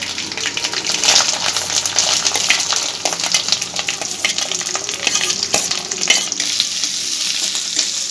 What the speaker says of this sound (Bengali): পেঁয়াজগুলো প্রথমে আমি তেলের মধ্যে দিয়ে দিচ্ছি